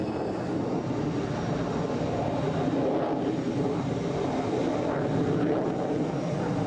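A Dassault Mirage III or Cheetah fighter jet roars steadily, a broad, dense engine rumble that holds fairly constant with a slight swell near the end, with no voices.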